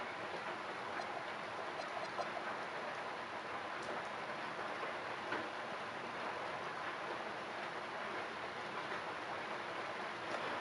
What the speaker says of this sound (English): it's raining like cats and dogs